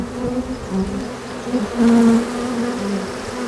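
Honeybees buzz loudly and close by at a new hive, a thick droning hum that swells briefly before settling back to a steady level.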